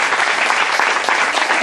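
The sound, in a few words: congregation clapping loudly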